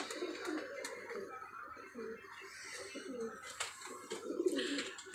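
Kamagar and golden teddy pigeons cooing in a steady run of soft, low, throaty coos, close by, with a faint chirp now and then and a little background noise.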